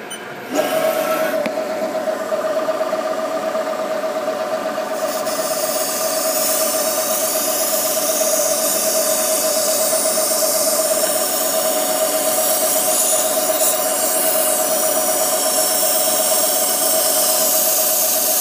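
A CNC milling machine runs a program, giving a steady, loud mechanical whine with a strong sustained tone after a brief start, constant throughout without talk.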